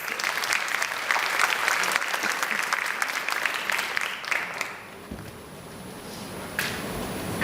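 An audience applauds as a speaker is welcomed onto the stage at a product launch event, a dense sustained clapping for about four and a half seconds that fades to quiet room noise with scattered faint sounds.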